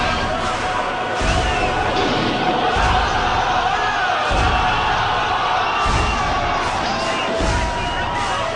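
An outraged protesting crowd roars in a dense, continuous wall of shouting and babble, loud and unbroken, with recurring heavy thumps, and a voice talks over it.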